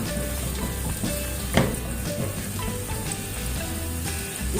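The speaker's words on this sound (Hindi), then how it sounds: "इसको हल्का सा फ्राई कर लूंगी।" Chopped fresh garlic fries in oil in a pan, making a steady close sizzle throughout with a brief louder crackle partway through, and no voices.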